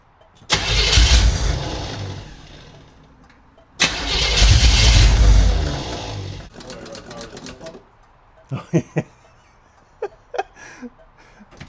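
A 1975 Chevy Monza that sat for 20 years cranks over loudly in two long bursts. Then come short clicks and brief sputters as it tries to catch, with talking in the background.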